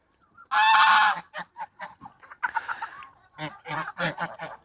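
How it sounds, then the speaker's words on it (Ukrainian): Geese honk close by, a long loud call followed by a string of short, uneven honks and clucks with quiet gaps between them. "І наші гуси, які приїхали до нас вчора, вже також зі всіма ходять і гуляють разом"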